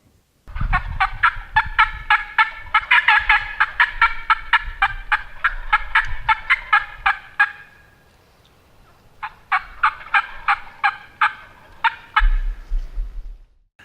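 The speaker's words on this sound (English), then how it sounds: "just listen to the gobbling that's going on in the background." Wild turkeys roosted in timber about 80 yards out gobble loudly and repeatedly, rapid rattling calls overlapping in bursts, some nearer and others answering farther off, with no talk.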